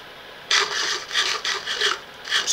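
Crackling fire in a video game, a steady run of dry, scratchy crackles close and fairly loud after a quiet start, with no talking.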